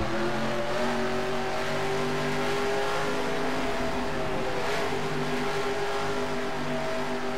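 Race car engine in NASCAR Racing 2003 at Charlotte Motor Speedway, a loud sustained roar with droning tones shifting slightly as cars run together in the draft, continuous for several seconds without talk.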